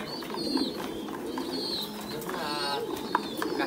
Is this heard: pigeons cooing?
yes